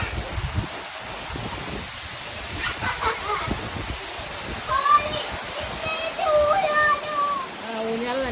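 Steady windy rainfall soaks an outdoor swing and mango trees, hissing and splashing continuously as people speak intermittently over the wash of water.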